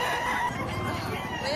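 Chickens cluck and crow faintly in a short burst at a busy poultry market, mixed into low background noise.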